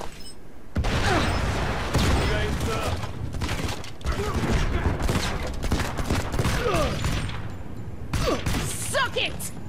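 Gunfire in the mobile shooter Modern Combat 5: Blackout, sustained rattling bursts with mechanical clanks and thuds running throughout, loud and close, with speech over part of it.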